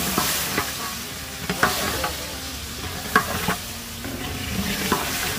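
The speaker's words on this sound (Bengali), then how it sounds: "চাল ভাজা শেষ, এখন মাংসটা দেয়া হচ্ছে" Meat hits fried rice in a biryani pot and is stirred, giving steady close sizzling and frying with repeated scraping stirs and clinks, no voices.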